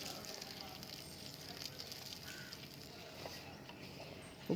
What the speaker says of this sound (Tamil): சின்ன வெங்காயம் நல்லா பொன்னிறமாக செவந்து வர அளவுக்கு வதக்குறேன்.